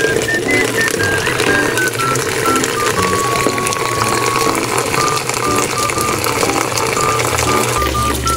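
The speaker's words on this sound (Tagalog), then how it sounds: "So yun, para dinamihan natin para yung katas niya mas kumulay. Yan, tapos punuin natin guys." Water pours steadily into a container being filled while making homemade talisay leaf extract, a continuous splashing rush with a faint whistling tone running through it and no pauses.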